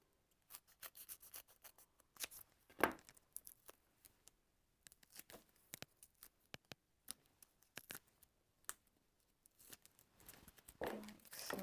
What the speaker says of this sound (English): Just grab